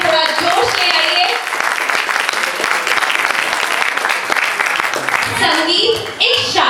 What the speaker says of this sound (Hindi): एक बार जोरदार तालियां बजा